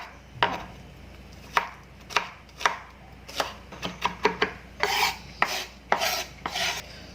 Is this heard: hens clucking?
no